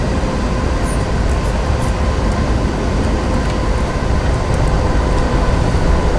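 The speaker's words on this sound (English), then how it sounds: "4014's now starting down grades." Union Pacific steam locomotive 4014 rolling downgrade in the Open Rails simulator on Cajon Pass, a steady loud broadband rumble of wheels and cars with faint high clicks, continuous throughout without speech.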